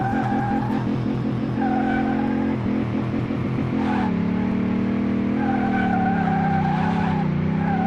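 A souped-up Viper in Car Mechanic Simulator 2018 revs hard on an airport track, its engine note climbing and dipping through gear changes while tires squeal and skid almost continuously, loud and close with no talking.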